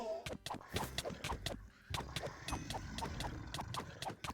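Horse hooves clip-clop in Wynncraft, the Minecraft adventure server, a steady run of sharp close taps repeating at an even trotting rhythm throughout, with no talking over them.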